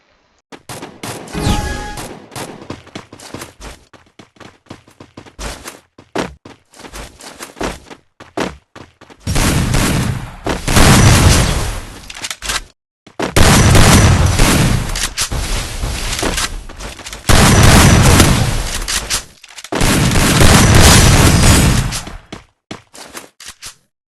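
Loud gunfire from a shooting video game rattles out in long sustained volleys of automatic fire, broken by brief pauses and scattered single shots, with no talk over it.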